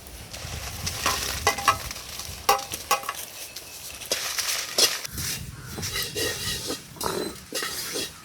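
Chillies roast in a pan over a village cooking fire, crackling and sizzling close by with irregular bursts of popping and scraping stirs. No one speaks.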